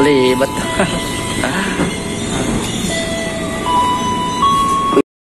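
Rumbling interior of a moving KRL commuter train in Jakarta, Indonesia, during a quiet holiday, with rattling wheels, squealing tones and a brief electronic chime, ending in a sudden cutout.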